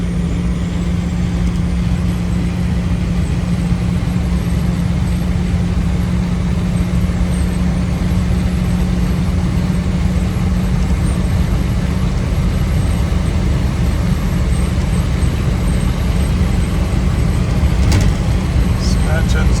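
A 1979 second-generation Ford Bronco drives down the road, its engine and road noise a steady, loud, low hum throughout, with someone talking over it.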